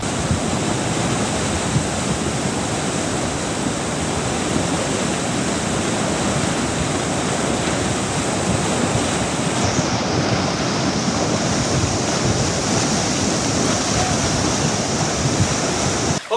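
A river rushes past built-up rock walls in a constant loud roar of churning water, close and unbroken throughout, with no voices.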